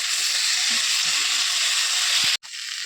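Mutton and potatoes sizzle steadily in a pan while being stirred for a Bengali mutton curry, a constant close frying hiss broken by a brief scraping knock near the end.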